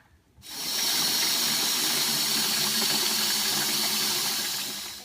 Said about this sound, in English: you're going to take the bucket and fill it with water